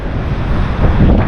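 Strong wind batters the microphone high on a sea cliff in Ireland, a loud continuous roar with rumbling gusts and distant surf beneath, no voices.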